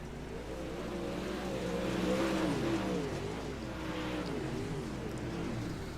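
Dirt race car engines from a DIRTKARS UMP series race drone steadily and loudly, several cars overlapping in a continuous rising and falling roar with no talking.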